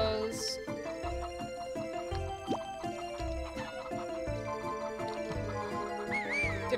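A horse neighs in the farming video game Harvest Moon: Save the Homeland, a synthesized whinny set within looping game music and short sound effects, steady and fairly loud throughout.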